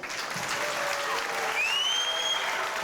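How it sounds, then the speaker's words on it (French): Steady applause from an audience fills the whole stretch, dense and even, with a faint whistle rising over it. "Voilà, on peut l'applaudir."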